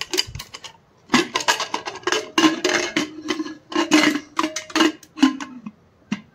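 A metal pressure cooker lid is set on and locked down at home, giving a series of sharp clanks, taps and scraping clicks in irregular bursts, close and fairly loud.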